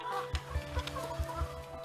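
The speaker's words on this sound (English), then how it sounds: "But these hens here in Suffolk love them." Hens on a farm in Suffolk give soft, low clucks in a loose repeating rhythm, close by, over a faint steady background hum.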